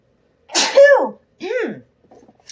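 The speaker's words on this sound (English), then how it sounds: "I am going to sneeze." One loud, close human sneeze with a sharp intake, followed by a second softer sneeze-like burst and a faint trailing breath.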